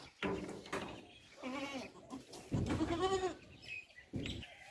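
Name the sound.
goat bleating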